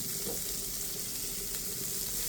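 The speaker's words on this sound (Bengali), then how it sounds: "এরপরে আমি এই কড়াইতেই আমি করলাটা ভেজে নিচ্ছি।" Bitter gourd frying in oil in a wok gives a steady, close sizzle that holds evenly from start to finish, with faint stirring underneath and no voices.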